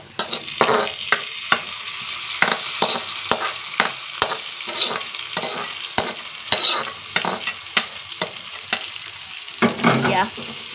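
Grated coconut roasting in a pan for Palakkad koottukari, a steady dry sizzle broken by repeated scraping stirs of a spoon against the pan, close and fairly loud with no talk.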